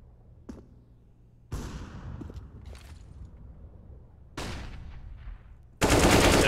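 Rapid gunfire bursts in a competitive first-person shooter esports match, coming as a few quick shots and then two loud sustained volleys, with short quiet gaps between them.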